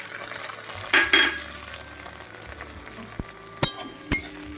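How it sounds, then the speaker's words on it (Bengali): Spice paste of ground cumin, ginger, garlic and dried chili is stirred into frying onions for a prawn dish, giving a soft sizzle with a few sharp clinks of a utensil against the pan. "একটু নাড়িয়ে চাড়িয়ে কষিয়ে নেব মশলাটাকে"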